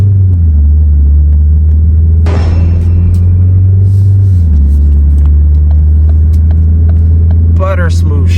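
Ford Fiesta engine running steadily with a constant low drone, its pitch stepping down once as a gear shift occurs; a brief louder burst of noise and faint clicks ride over the steady hum.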